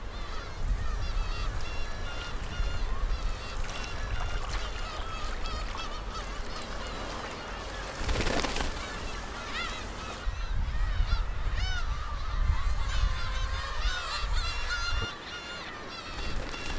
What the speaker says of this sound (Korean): 괭이 갈매기는 수영이나 잠수가 서툴러 수면에서 먹이를 구하는데 독도 앞바다에 떠다니는 꽁치알은 가장 좋은 먹이다